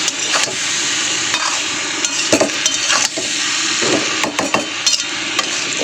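Prawns with vegetables and spices being stirred and fried in a pan, a steady close sizzle with repeated scraping strokes of a spatula against the pan and a few sharper knocks, with no talking.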